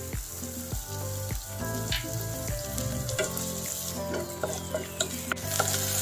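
White onion sizzles in olive oil in a pan, a steady close frying hiss with occasional stirring scrapes and clinks throughout.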